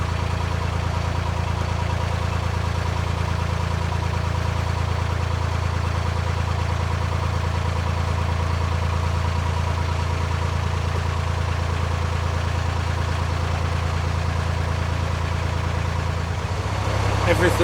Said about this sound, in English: Everything is sounding a bit different with regards to the engine running.